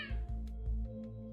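A cat meows several times in short, close, fairly quiet calls, with a low background hum and no voices over it.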